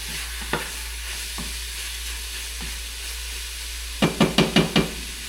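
Meat frying in a pot gives off a constant hiss with a few scattered scrapes, then a quick burst of five rapid stirring knocks near the end, close by and without speech.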